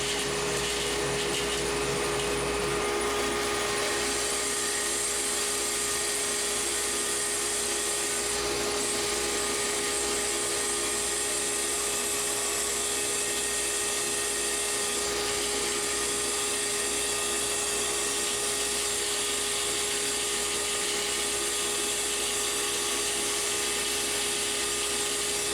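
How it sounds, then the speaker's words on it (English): A bandsaw cuts decorative brackets out of cherry wood, a steady loud whine of the blade and motor running continuously throughout with no talking. "Now I can go over to the bandsaw and cut these out."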